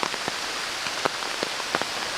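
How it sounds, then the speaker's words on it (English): Heavy rain pours down outdoors during a bow hunt, a steady hiss of drops hitting surfaces with a few louder close splats scattered through, no voices. "it's coming a downpour"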